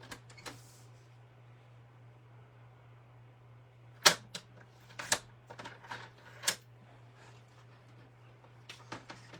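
Cardstock being cut for a handmade card, a few sharp slicing snaps and clicks of a trimmer or scissors, close and sparse over a quiet background hum.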